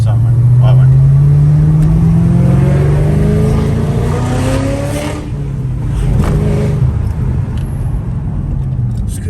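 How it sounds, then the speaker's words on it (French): A Ford Mustang Stage 2 braking hard, its loud engine note sweeping downward as it slows, then settling into a lower rumble with road noise, recorded from inside the car. "Ce que ça freine, c'est incroyable."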